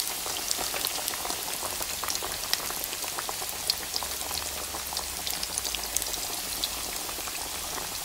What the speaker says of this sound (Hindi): ये मैं सारे चिकन के पीस जो हैं जितने इसके अंदर आ सकते हैं एक ही वक्त में इसको फ्राई करूँगी